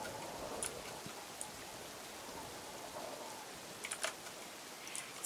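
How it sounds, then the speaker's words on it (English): Rain in Minecraft patters steadily as a soft, continuous hiss, with a few faint clicks and ticks scattered over it; quiet and even, with no voices. "It's still raining."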